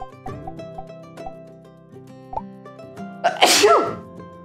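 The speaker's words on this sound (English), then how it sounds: "sneeze." A single sharp human sneeze bursts out near the end, loud and close, over soft game background music with light chimes.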